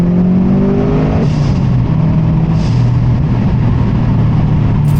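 A 2007 Subaru WRX STI engine roars under hard acceleration with flat foot shifting, a loud continuous drone with a brief drop in pitch as the gear changes and the revs climb again, heard from inside the car.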